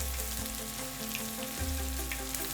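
Heated oil for a mutton pickle sizzles in a steady, dense hiss that fills the whole short stretch alone, with a constant low hum beneath it.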